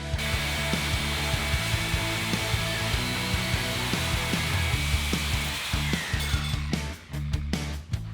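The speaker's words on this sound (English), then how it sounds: "now we are still having to cut the bolt" A power tool cuts through a stubborn bolt during a Jeep YJ Ford 8.8 axle swap, giving a continuous loud grinding whine with wavering pitch, then breaks into choppy pulses near the end.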